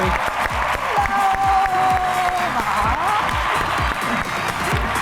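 A studio audience applauds to welcome actress Veena Malik on a talk show, steady close clapping throughout with light cheering.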